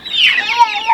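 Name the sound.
egg-laying hens clucking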